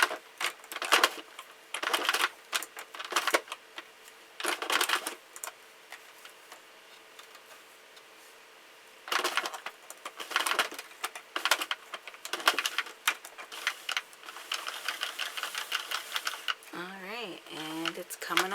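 A Sentro knitting machine is cranked with yarn in clattering, ratcheting bursts that start and stop, some spells loud and busy; a voice speaks near the end.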